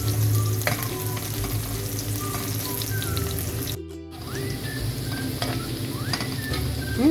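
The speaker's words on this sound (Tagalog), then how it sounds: "Ang bango ng bawang at sibuyas pag iginisa." Garlic and onion sautéing in a pan, a close, continuous sizzle with repeated scraping stirs and a brief cut in the sound midway.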